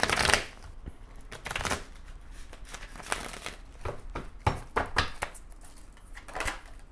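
A deck of tarot cards is shuffled by hand again and again, each pass a quick, crisp riffle of flicking card edges, close and clear with short pauses between the bursts.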